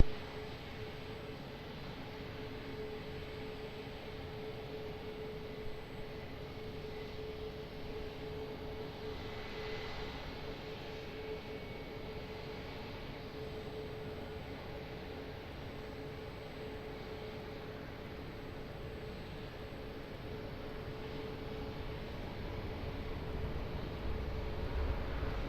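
A steady distant aircraft engine drone at Lisbon Airport holds for the whole stretch, faint and unbroken, with a slight swell toward the end.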